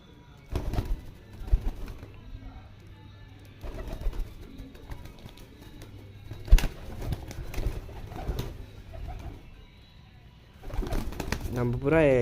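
Pigeons cooing softly while being fed peas, finger millet and corn, with low repeated coos and some wing flutters, and someone talking over them through much of the clip.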